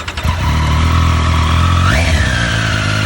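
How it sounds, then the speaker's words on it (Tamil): A Triumph Street Triple motorcycle engine runs loud and close, holding a steady idle before a quick rev climbs and falls back, with no speech. "அப்புறம் வண்டி எந்திரத்தை எழுப்புங்க தோழர் அப்படின்னு அவர்கிட்ட நான் ஒரு வேண்டுகோளை வச்சேன்."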